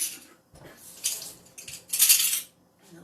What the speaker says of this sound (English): Let me stir in the vanilla